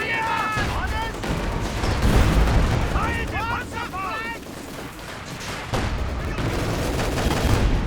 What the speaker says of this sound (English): Fire a Panzerfaust at it.